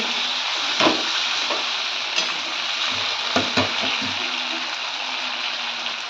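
Potatoes and flat beans sizzle in a pan with tomato, ginger, chili and cumin as spices are added, a steady close frying hiss broken by a few stirring scrapes and clinks.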